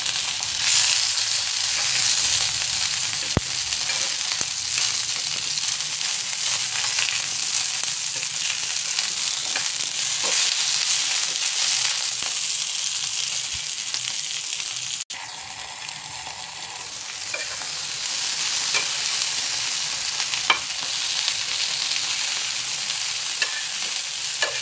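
Food frying in a pan and being stirred and turned over: a long, steady, close sizzle with faint scrapes and occasional small clicks throughout, and no voices.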